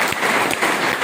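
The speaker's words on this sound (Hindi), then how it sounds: "एक बार 2 लोग के लिए जबरदस्त तालियां हो जाए" An audience at an indoor training session applauds, a brief, loud burst of many hands clapping at once.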